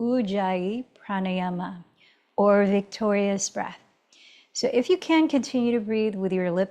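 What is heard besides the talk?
No distinct noise like a dog, phone or traffic.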